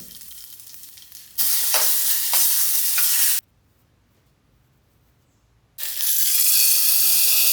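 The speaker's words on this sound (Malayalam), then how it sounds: "ഇനി നമുക്ക് വറവിടണം വറുത്തിടാനുള്ളത് വെളിച്ചെണ്ണയിൽ നമുക്ക് കടുക് വറ്റൽമുളക്" Loud bursts of sizzling as mustard seeds and dried red chillies hit hot coconut oil, crackling for a couple of seconds, a quiet pause, then the sizzle returns strongly.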